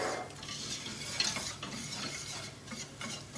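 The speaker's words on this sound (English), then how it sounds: "And I always use my whisk, just so it doesn't go too lumpy." A whisk stirs a sauce in a pan, making a continuous swishing, scraping rhythm over a soft sizzle, heard close with no talking.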